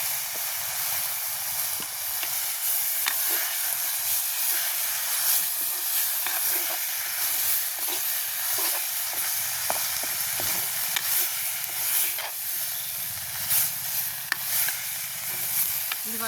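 Liver with spice powder cooking in a pan, giving off a steady, loud hiss and sizzle of steam that runs unbroken throughout, with a few faint clicks and a voice talking softly beneath.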